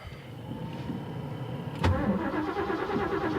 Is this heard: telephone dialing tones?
no